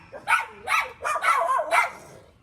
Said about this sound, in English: I'm gonna try and get away from this freaking dog.